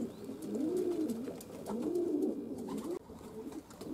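Racing pigeons coo repeatedly near their loft, soft throaty rolling calls in a slow, recurring rhythm.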